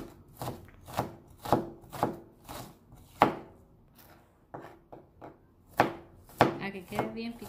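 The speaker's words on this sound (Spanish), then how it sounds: "Ahora vamos a picar la cebollita, que quede bien picadita también." Red onion being chopped with a knife on a cutting board, a run of crisp, uneven blade strikes close by, some in quick bursts, with brief pauses between.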